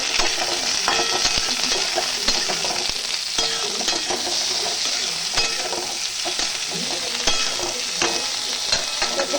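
Potatoes, onions and chopped tomatoes frying together in a pan for a posto dish, a steady loud sizzle with spatula stirring scrapes throughout, no voices.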